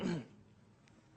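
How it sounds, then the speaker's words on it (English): One quick throat clear right at the start, then near silence. "I'm clearing my throat."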